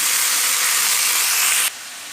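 Tomatoes frying in hot oil for chicken chops, a steady close sizzling hiss that holds loud and even, then cuts off abruptly and drops to a quieter background.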